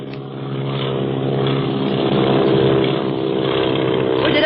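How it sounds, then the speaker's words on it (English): Propeller airplane engine in flight as an old radio drama sound effect, a steady droning hum that swells slightly and holds loud and close throughout with no speech. "Where did that other plane come from?"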